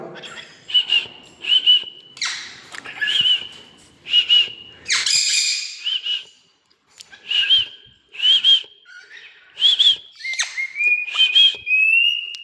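A pet parrot whistles a series of short, clear, rising notes in a repeated rhythm, close and loud, with chirps and a few squawky bursts between them.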